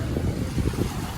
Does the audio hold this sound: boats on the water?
yes